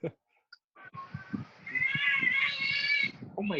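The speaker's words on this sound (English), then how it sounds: "Oh, is that a cat?" A cat outside in a garden below an apartment lets out a long, loud, drawn-out meow, faintly picked up over an online conversation, with a person speaking briefly around it.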